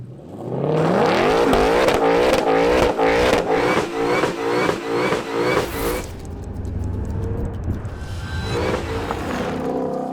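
A car with traction control switched off revs hard and pulls away, the engine climbing through several quick gear shifts, loud and close, then settling into a steadier drone as it drives off.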